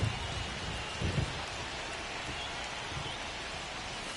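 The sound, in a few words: rain falling in the video game MLB 25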